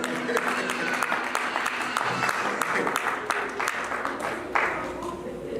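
A church congregation applauds in a steady, moderately loud patter of many hands clapping, with some voices mixed in throughout.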